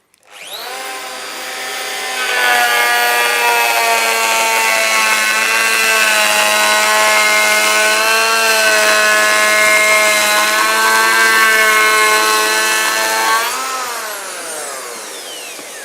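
A Festool EHL 65 EQ electric planer spins up and takes a steady 2mm cut for about eleven seconds, a loud, even whine with a strong tone that winds down at the end, with no voices.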